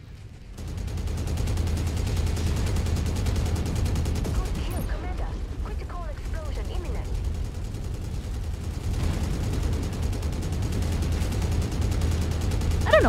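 Mech weapons fire in the video game Mechwarrior 5, a dense, sustained roar of rapid blasts and rumbling impacts lasting throughout, loud and continuous with a brief lull in the middle.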